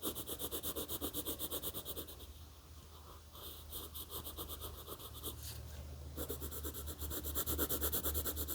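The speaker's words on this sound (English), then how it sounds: "I'm turning my pencil as I'm coloring." A colored pencil scratches steadily across paper in close, rhythmic strokes, with a soft pause and shifting texture as the pencil is turned mid-drawing; no voices.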